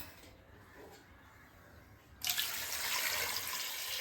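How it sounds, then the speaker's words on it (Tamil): Water is poured into a pressure cooker over mutton trotters for paya. It starts as a sudden, steady, close rush about halfway through, after a quiet, faint lead-in. "குக்கரில் ஆட்டுக்காலெல்லாம் போட்டுக்கலாம் அதுக்கு ஆட்டுக்கால் முழுகிற அளவுக்கு தண்ணி ஊற்றிக்கலாம்"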